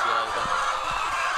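Caged hens at a poultry egg farm in Karachi, Pakistan, cluck over steady, dense farm background noise, with a few low soft bumps scattered through the short stretch.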